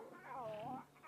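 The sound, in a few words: lion cubs whining at a kill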